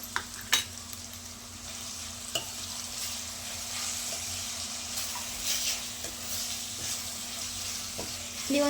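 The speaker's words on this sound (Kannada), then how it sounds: "ತೆಂಗಿನಕಾಯಿ ಆ್ಯಡ್ ಮಾಡ್ತಾ ಇದ್ದೀನಿ ತೆಂಗಿನಕಾಯಿ ಒಂದು ನಿಮಿಷ ಫ್ರೈ ಆಗಲಿ" Grated coconut frying in a pan for capsicum chitranna, a soft continuous sizzle broken by occasional sharp scraping stirs of the spatula, close and fairly quiet with no talking.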